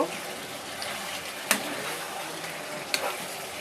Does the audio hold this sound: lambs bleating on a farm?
no